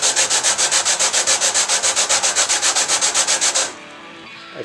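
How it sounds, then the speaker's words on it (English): Particle board rubbed back and forth over sandpaper laid on a Stratocaster-style guitar neck: about twenty quick, even strokes in a steady sanding rhythm, close and loud, then it stops. "taking a piece of particle board and rubbing it over the sandpaper while pushing down on the neck"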